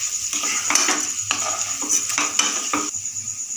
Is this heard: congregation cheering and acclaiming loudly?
no